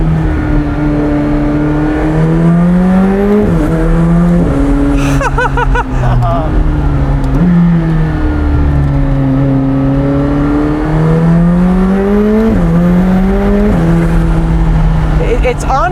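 A McLaren 765LT V8 revs hard and pulls through its gears, pitch sweeping up and dropping at each shift, with sharp cylinder-cut bangs cracking between pulls; loud and close throughout, with a voice talking over it.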